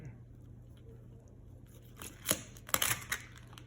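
Crisp cutting and crackling of air-fried pork belly skin from an Instant Pot air fryer, a few sharp crunchy bursts near the end after quiet background hum, close and fairly loud.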